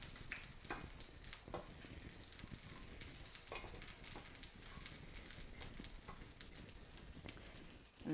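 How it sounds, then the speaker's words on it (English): Capers and leftover liquid are stirred together in a pan, giving a faint, steady sizzle with occasional soft scraping taps from the utensil. "And just stir it all together."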